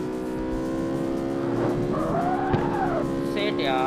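A Corvette C6 in the CarX Street racing game revs and slides through a drift, its engine note rising and falling with brief tire squeal, loud and continuous.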